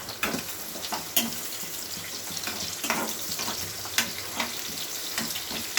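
Cumin and chopped onion frying in hot oil for Telangana-style fish curry, a steady close sizzle and crackle with scattered sharp pops throughout.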